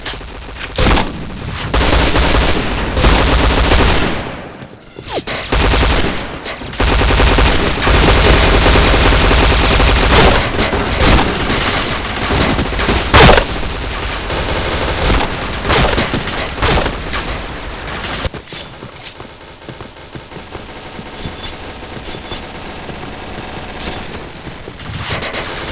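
P90 gunfire in a headshot-mode shooter game, loud sustained automatic bursts and rapid fusillades filling the scene, with brief pauses between volleys.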